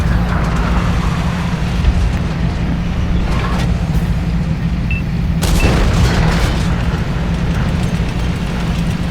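Tank cannon fire in World of Tanks console play, a deep boom bursting out around the midpoint over a constant low engine rumble, with a few smaller thuds before it and no voices.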